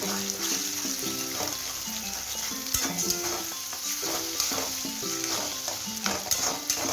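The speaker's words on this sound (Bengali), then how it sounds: "এরপর আমি ডিমটা ফাটিয়ে এখানেই ভেজে নেব" An egg cracked into a pan over fried ingredients sizzles steadily while being stirred, with frequent scraping and clinking, close and continuous, with no speech.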